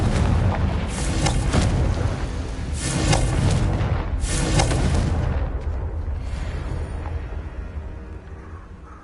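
Booming explosive spell blasts in Hogwarts Legacy, several heavy bursts about a second apart with a rumbling tail, loud and close, fading toward the end.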